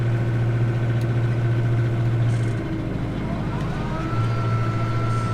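A tractor runs a round baler baling hay in a field, a steady low engine drone with a mechanical hum that shifts pitch midway, close and continuous.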